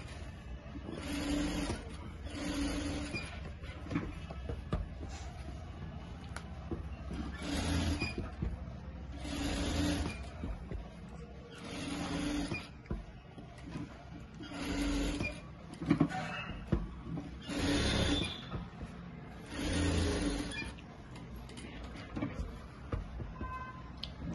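Sewing machine stitching a kurti's lining to its cloth, bursts of steady whirring needle runs repeating at short intervals, moderately close and fairly quiet, with brief pauses between seams.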